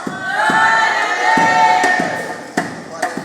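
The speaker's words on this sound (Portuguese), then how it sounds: "Agora dá o maior grito de glória a Deus que Ele pode dar." A church congregation shouts praise together in a sustained loud roar of many voices, with sharp thumps and claps scattered through it.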